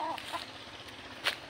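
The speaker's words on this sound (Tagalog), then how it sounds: "Tapos yan, meron siyang mga manok guys." Chickens at a rural ancestral house give a few faint, short clucks over steady outdoor background noise.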